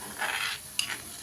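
A spoon stirring egg curry gravy in a pan, scraping strokes in two bursts with a sharp clink near the middle, close and moderately loud over a faint sizzle, no talking.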